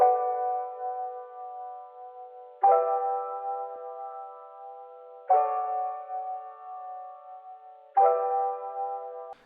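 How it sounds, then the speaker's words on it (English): A sparkly little piano accent from an R&B sample, bright sustained chord struck four times at even intervals, each ringing and fading softly before the next. "Then next I added this sparkly little piano accent."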